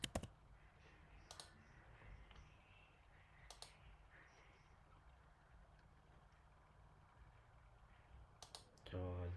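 A computer mouse clicking a few times on parts in 3D mockup software, sharp, faint clicks spaced apart over quiet room hiss, with a voice speaking softly.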